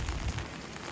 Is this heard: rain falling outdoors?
yes